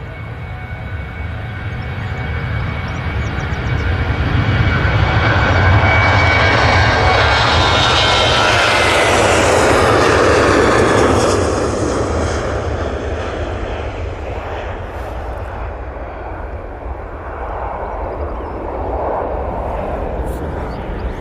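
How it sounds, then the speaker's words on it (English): A Boeing 737 jet at Manchester Airport accelerates down the runway on its takeoff roll, a loud broadband engine roar that swells to a peak and slowly eases off, with someone talking over it. "737 on the roll,"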